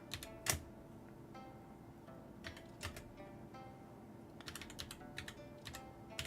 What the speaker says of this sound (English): I'm typing fully sideways right now.